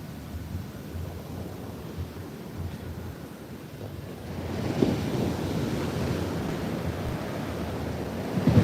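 Stormy surf pounds Muaro Bayang beach in Pesisir Selatan, West Sumatra, with a continuous low roar of breaking waves and gusting wind buffeting the microphone, swelling louder in the second half.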